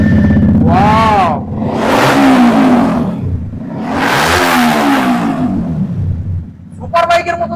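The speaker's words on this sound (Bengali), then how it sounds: "একদম দাদা সুপার বাইকের মতো সাউন্ড আছে গাড়ি" A motorcycle engine revs hard in two long, loud roaring bursts that rise and fall like a superbike, idling between them, with someone talking close by.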